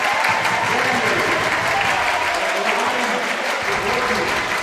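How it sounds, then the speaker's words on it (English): Crowd clapping steadily in a high school gym during a boys basketball game between Sioux Falls Lincoln and Sioux Falls O'Gorman after a foul call, loud and continuous throughout with faint chatter underneath. "They're clapping like Stu Whitney was after the foul called there"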